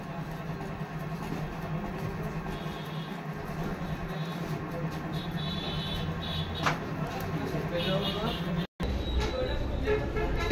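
A coil winding machine turns out motor coils for a 1 HP single-phase 2900 RPM motor. It gives a faint, steady mechanical whirr and rattle that runs continuously, broken by one brief dropout.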